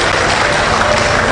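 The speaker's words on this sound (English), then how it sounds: "Clap your hand for that." A congregation at a funeral service claps together, a dense, loud burst of many hands filling the whole moment.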